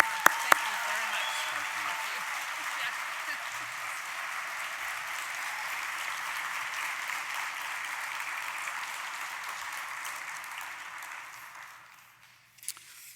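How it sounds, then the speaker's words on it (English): Sustained round of applause from a conference audience at closing remarks, a broad even wash of clapping for over ten seconds that fades out near the end. "Round of applause for Carol."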